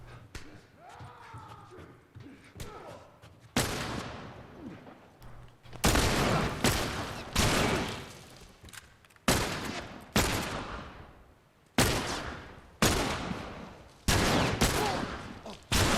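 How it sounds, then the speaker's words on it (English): Gunfire in the video game The Last of Us, heard as loud, sharp shots repeated at irregular intervals, each with a reverberant tail, with a player's voice faintly audible in the opening seconds. "I was shooting at the wrong guy."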